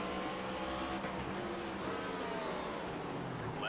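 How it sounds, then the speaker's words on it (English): Race car engine in the NASCAR 25 video game at Sonoma, a loud steady engine roar whose pitch drops and shifts as the car downshifts, with faint tire squeal. "Downshifting the first gear way too quickly"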